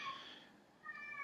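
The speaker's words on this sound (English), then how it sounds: "That's my cat. He doesn't like bagpipes." A house cat gives two short meows, the first higher and clearer, the second after a brief pause, faint and alone in a quiet room.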